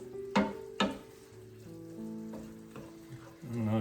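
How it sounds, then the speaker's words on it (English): Food simmers in a pan with a soft, quiet sizzle, broken by a couple of light utensil clinks near the start. "We're going to let it simmer for 15 minutes."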